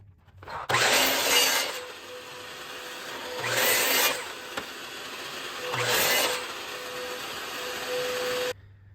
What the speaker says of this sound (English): we're going to be cutting out our side pieces. We have to cut out 2 and we're going to miter at 15 degrees.